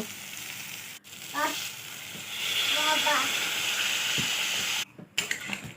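Potatoes and fried spices sizzle steadily in a pan. A louder hissing surge rises midway as water goes in, with stirring clinks and scrapes throughout.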